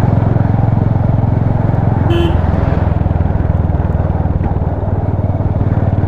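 A Royal Enfield Hunter 350 on its first ride on new CEAT xOOm XL tyres gives a loud, steady single-cylinder thump close to the rider. A brief horn toot sounds partway through.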